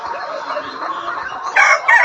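Layer hens on a poultry farm clucking and cackling close by, a steady chorus of calls that rises into louder, sharper squawks near the end.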